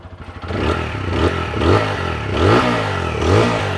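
A 2026 TVS Apache 160 4V motorcycle is heard close up: a few quick starter pulses, then the single-cylinder engine idles and its exhaust swells through repeated throttle blips.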